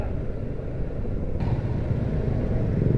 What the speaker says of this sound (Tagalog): Medyo traffic na dito ngayon.